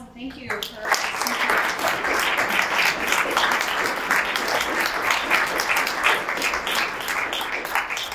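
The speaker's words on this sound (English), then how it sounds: "One more round of applause" Sustained audience applause fills the room after a lecture on race and belonging in Thomas Wolfe's Asheville, a steady dense clapping that holds strong from start to finish with a few voices underneath.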